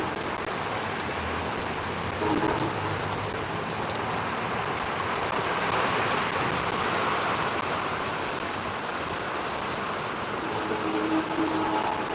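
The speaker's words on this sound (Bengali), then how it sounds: "বৃষ্টি হচ্ছে" Heavy rain pouring down on a street in Rajshahi: a dense, loud, continuous wash of rain that stays unchanged throughout, with no voices.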